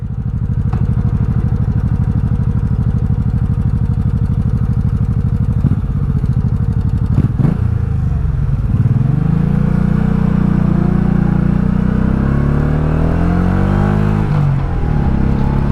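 A 1984 Honda Shadow 700 VT700C motorcycle engine runs steadily up close, then revs up hard around the middle and holds a rising, throaty drone before dropping back near the end.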